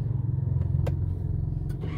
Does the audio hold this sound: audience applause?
no